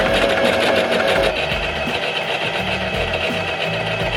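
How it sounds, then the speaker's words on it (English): A sewing machine stitches a fabric sleeve seam, a steady, close, fast mechanical whirr with rhythmic needle chatter that runs continuously throughout. "I'm just gonna sew."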